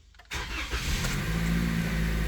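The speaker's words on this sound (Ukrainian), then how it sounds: "з півтичка машина завелась" A 2022 Toyota Corolla engine catches after a brief crank, jumping into a loud, steady idle close by that holds with a low rumble and a constant hum, no voices present.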